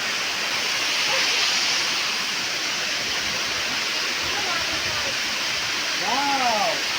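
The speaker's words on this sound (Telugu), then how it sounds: "వాటర్ ఎలా పారుతుందో ఇస్తున్నారు." A waterfall beside the road to Paderu sends up a steady, broadband rush of falling water that fills the whole stretch evenly, with a few faint tonal calls or voices surfacing near the end.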